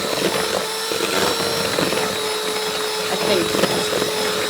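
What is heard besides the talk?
electric whisk mixing cake batter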